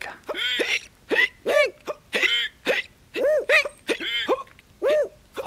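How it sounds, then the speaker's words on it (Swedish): A run of voiced hiccups, loud and close, about eight sharp gulping hics in an uneven rhythm with short pauses, performed as a grandmother's hiccups in a Swedish children's song. "Och sen fick farmor hicka."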